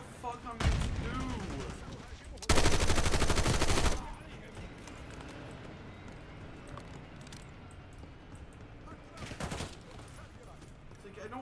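Gunfire in the video game Black Ops 6 comes in a few loud bursts, with automatic fire at the start, a heavy sustained burst, then a later short volley over quieter game background sounds.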